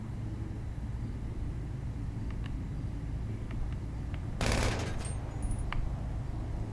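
A loud burst of gunfire from a GTA V roleplay session on a city rooftop, a dense crackling volley lasting about a second, preceded and followed by scattered single shots over steady engine and ambient game noise.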